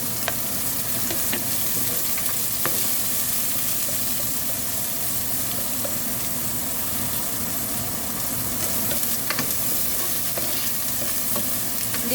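Onion and garlic sizzle steadily while being stir-fried in a pan for afritada, a dense, continuous frying hiss with faint stirring clicks and scrapes, close and even throughout.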